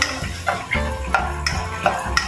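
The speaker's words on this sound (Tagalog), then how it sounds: "So, we're now going to saute." Onions sautéing in a pan for kare-kare sauce, with a soft steady sizzle under repeated scraping and tapping of a utensil against the pan at roughly half-second intervals, close by.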